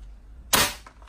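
A single sharp, loud blast from a GE 8877RW gas-powered shotgun, sudden and close, with a short fading tail and no talk over it.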